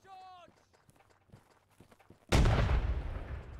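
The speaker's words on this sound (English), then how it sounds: "the cannon we were just at just got fired at us" A cannon booms in a Holdfast battle, one loud sudden blast that rolls on with a long rumbling decay after a stretch of quieter scattered battlefield noise.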